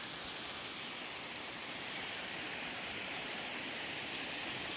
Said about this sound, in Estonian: Teisel kohal on Saka ehk Kivisilla juga.